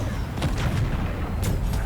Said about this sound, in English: there's someone else shooting at me too